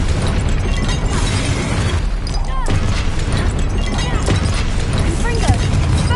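Spell blasts and bursts from combat in Hogwarts Legacy boom and crackle in a dense, loud stream, overlapping with a voice shouting spell names throughout.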